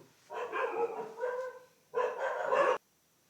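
Dogs bark in two clear bursts at moderate distance, a loud yapping flurry followed by a pause and then a second louder run of barks, with no talk over them.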